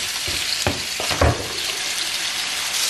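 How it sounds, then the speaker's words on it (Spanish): Pork ribs frying in a pan for a sauced rib dish, a loud continuous sizzle with a few thumps and scrapes as they are moved around. "Bueno, ponemos las costillas. Y las sofreímos bien."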